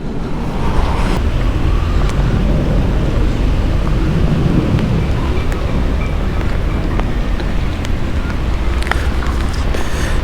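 Steady broadband rain and wind noise fill a wet day at Howth Harbour in Ireland, with small fishing boats moored nearby, a loud constant wash with scattered sharp ticks and no speech.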